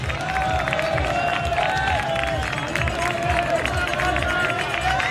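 Spectators crowd the course at a cyclocross World Cup race in Benidorm, their roar and clapping a continuous dense wall of noise, with a loud commentator voice talking over it.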